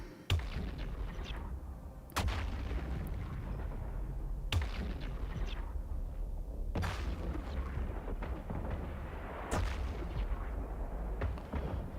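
Heavy weapons in a space video game fire on a Serpentis tower sentry, with loud booming shots about every two to three seconds over a constant deep rumbling drone.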